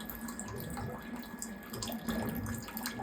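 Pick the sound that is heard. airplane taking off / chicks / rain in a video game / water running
water running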